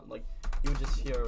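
Keys on a computer keyboard click and clatter quickly beneath a voice talking close to the microphone.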